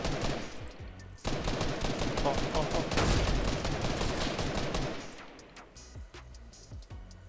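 Sniper rifle gunfire in the video game Fortnite, with loud, sharp shots and a heavy blast near the middle, followed by quieter rumbling and scattered distant pops.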